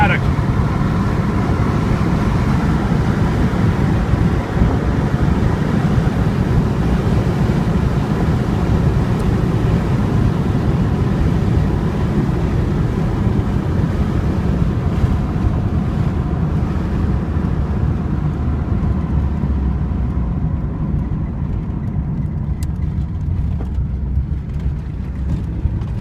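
A 1989 Ford Escort with a 3-speed automatic cruises at 65 mph and 3000 RPM, a steady loud cabin roar of engine and road and wind noise, heard from inside with little change.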